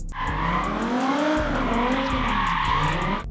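A BMW drifting lets out a loud, continuous tire squeal with a revving engine underneath, the screech wavering in pitch for several seconds without pause.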